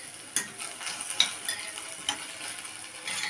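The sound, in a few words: tomatoes being stirred and frying in a pan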